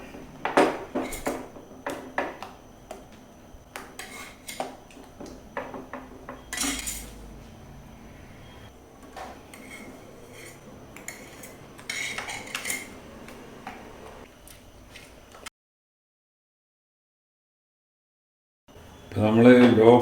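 Cream cheese mixed in a pan over a low flame, with repeated clinks and scrapes of a utensil against metal, busy at first and then sparser, a stretch of silence, and a loud burst at the end.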